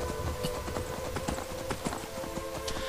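Horse hooves clip-clopping in the video game Skyrim, a brisk, regular run of close hoofbeats that keeps a steady walking rhythm over a faint game background, with no talking.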